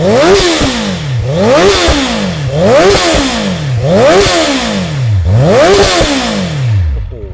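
A Honda CB650 motorcycle engine with a tuned exhaust revs hard five times in a row, each rise peaking and dropping back in a rhythmic cycle, very loud and close.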